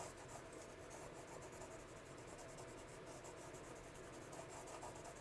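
Graphite pencil shading on paper, building darker values. Steady, soft, continuous scratchy rubbing strokes, close and quiet, with no talking.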